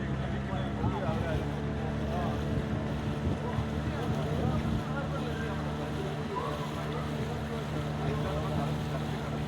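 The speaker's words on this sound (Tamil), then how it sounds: "படகு வேகமாகவே செல்கிறது." Boat running fast out of a harbour onto the open sea off Enayam in the early morning, with a steady engine drone, water rush and wind buffeting the microphone continuously.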